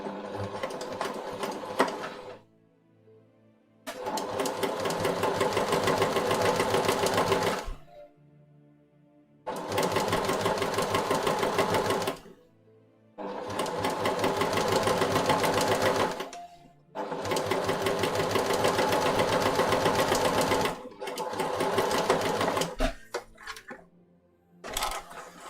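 A sewing machine stitching a pin-tuck shirt runs loudly in several sustained bursts of steady mechanical whirring, separated by short quiet pauses while the fabric is repositioned.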